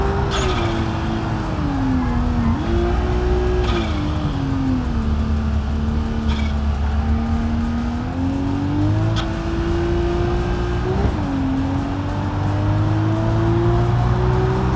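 Race car at speed on the Nordschleife, engine droning loud and steady throughout with pitch rising and dipping through gear changes, and faint tire squeal as the car slides through corners; no talking.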